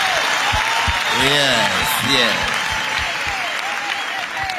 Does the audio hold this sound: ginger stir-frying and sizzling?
no